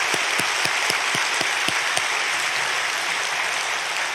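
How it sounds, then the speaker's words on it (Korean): A Korean church congregation applauds newly registered members during a Sunday service, with loud, dense clapping and a few sharp individual claps standing out early before the sound evens out. "우리 마음을 다해서 뜨겁게 환영하며 박수를 치겠습니다"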